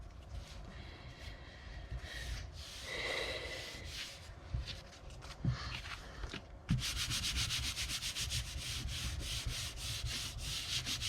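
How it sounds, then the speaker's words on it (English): A glued paper mat is rubbed down onto a greeting card by hand, giving a soft, steady scraping and brushing that continues close up throughout, with no one speaking. "Rub it on the back rather than rubbing it on the front, just in case I've got any ink on my hand that I'm unaware of."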